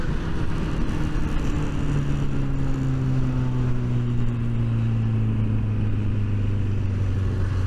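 A Kawasaki ZX10R sport motorcycle engine drones loudly and continuously from close by, its pitch sliding slowly downward as it runs, with steady wind and road rumble underneath.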